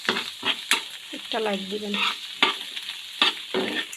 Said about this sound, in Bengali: আমার পেঁয়াজগুলো ভাজা হয়ে গেছে